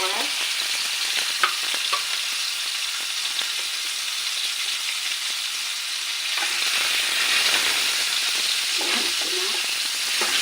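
Chicken pieces for chicken roast frying in a pan, a steady bright sizzle throughout with occasional stirring scrapes and taps, close and fairly loud, no talking.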